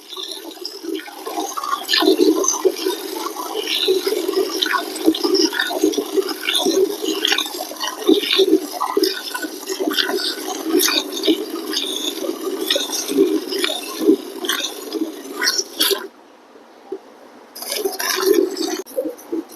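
Milk streams from a buffalo being hand-milked into a bucket on a farm in Faridkot, Punjab, a steady, close rhythmic splashing hiss of jets hitting liquid, briefly pausing near the end.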